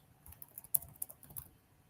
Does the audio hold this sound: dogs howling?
no